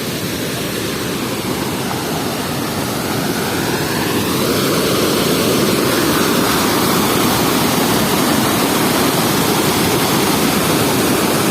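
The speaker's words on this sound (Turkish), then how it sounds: "Şelalemizin sesi gürül gürül maşallah maşallah." Kernek waterfall in Malatya pours with a dense, steady roar of rushing water, loud and close, holding constant from start to finish with no voices over it.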